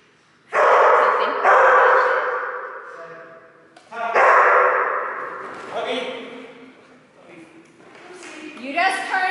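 Dogs barking and yipping during agility training, loud close bursts of barks with whimpers between them, some overlapping, and a person speaking across much of the stretch.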